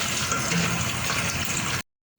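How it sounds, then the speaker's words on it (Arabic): Water poured into a pot of onions fried until golden, for a mung bean soup: a loud, steady gushing splash that runs for nearly two seconds and then cuts off abruptly, with no speech. "راح اضيف المي راح اضيف تقريبا نص الجدريه كلش كافي."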